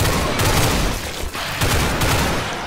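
A Russian weapon firing in Doom Project Brutality, with a loud, unbroken roar of rapid automatic shots that barely dips for a moment midway.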